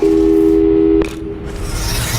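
Phone call tone from the video game Portal 2: a loud, steady electronic telephone tone holds for about a second and then cuts off, leaving a hissy background.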